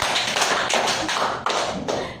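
A classroom of students claps hands together in a counting clap game, sharp group claps landing in a quick repeated rhythm, close and loud with no talking over them.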